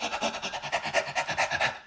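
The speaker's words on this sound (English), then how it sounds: "I'd like to invite sort of panting" Rapid rhythmic panting breaths during a dance breathing exercise, about a dozen quick in-and-out puffs in under two seconds, close and clear with no talk.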